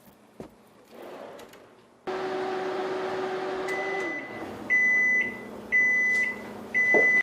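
A microwave oven hums steadily for several seconds, then gives three loud, evenly spaced electronic beeps when the food is ready, with no one talking.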